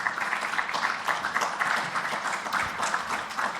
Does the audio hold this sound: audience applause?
yes